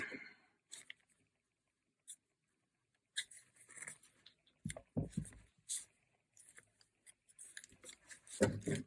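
Scissors snip a few times, cutting excess thread off a hand-bound junk journal signature after a square knot; short crisp clicks and rustles of paper sound close and isolated, with quiet gaps between.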